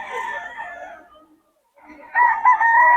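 Stag roosters crow loudly and close at a fowl market in Bocaue, two strained crows split by a short pause, with light clucking mixed in.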